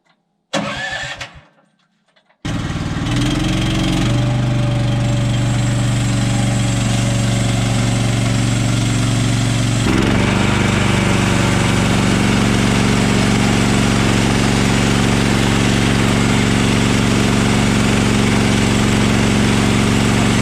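A Woodland Mills HM130 Max sawmill cutting a log, its engine firing up after a brief knock and then roaring loud and steady for the rest of the clip, with a slight shift in tone partway through the cut.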